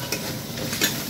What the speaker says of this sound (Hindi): अब इसको हम भूनेंगे